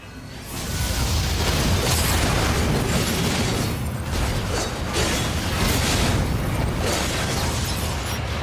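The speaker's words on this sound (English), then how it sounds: "First, let me clear all this cannon fire." Cannon fire explodes in a dense, continuous barrage in the NieR: Automata video game, loud booms overlapping for about eight seconds with no talking.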